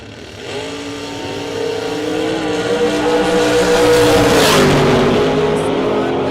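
Drag race cars rev and launch together in a 32-car box shootout round, a loud sustained engine roar that swells and holds steady, close by with no talk over it.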